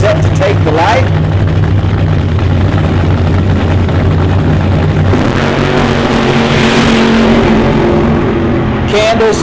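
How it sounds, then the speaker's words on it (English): A nitro-burning funny car roars in the final round of a drag race, a loud, constant engine blast that surges even harder about halfway through, with voices faintly buried beneath it. "Final round, Nitro burning funny car on the Tower side, set to take the light."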